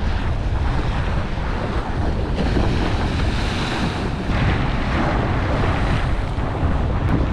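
Ocean waves at the beach in Playa del Carmen, a loud continuous surf wash mixed with heavy wind buffeting on the microphone, with no talk.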